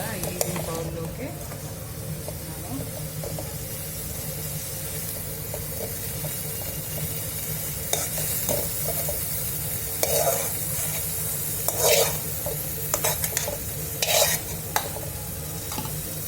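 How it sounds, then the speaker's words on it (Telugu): Coriander leaves frying in hot oil for a tomato coriander chutney, a continuous close sizzle with scattered stirring scrapes and sharper spits toward the end. "కొత్తిమీర ఫ్రై అయింది."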